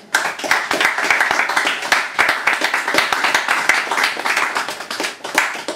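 Small audience applauding after a poetry reading: close, crisp hand claps, a brisk and fairly loud patter of individual claps from a modest crowd, steady throughout.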